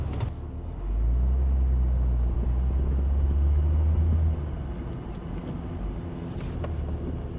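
An Ineos Grenadier is driven slowly, its engine giving a low steady rumble that swells for a few seconds and then settles into a quieter drone, heard from inside the vehicle with no talking.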